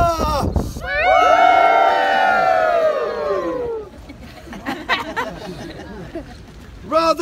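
A tour group crowd at the Tower of London lets out a loud, sustained cheer and shout lasting about three seconds, then fades into scattered murmuring and chatter before a brief burst of voices at the end.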